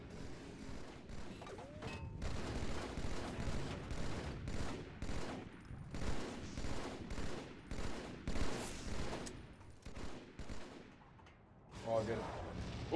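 Rockets fire and explode during a Halo match, a dense run of booming blasts and gunfire crackle rolling on continuously, with excited voices mixed into the chaos.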